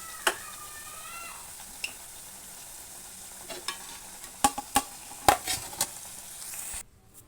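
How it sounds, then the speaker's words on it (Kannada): Potato pieces fry in hot oil in a pan with a steady low sizzle, punctuated by sharp scraping and clinking strokes of a spoon stirring, growing busier toward the end. "ಇದು ಸ್ವಲ್ಪ ಕಲರ್ ಚೇಂಜ್ ಆಗೋ ಥರ ಫ್ರೈ ಮಾಡ್ಕೋಬೇಕು"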